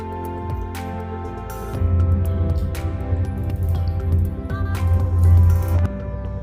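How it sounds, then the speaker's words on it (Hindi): A small glass of water is poured into a cauliflower and potato curry in a kadhai, with a splashing, bubbling liquid sound that starts after a short quiet moment and continues steadily for several seconds. "अब हम इसमें 1 गिलास पानी डालेंगे।"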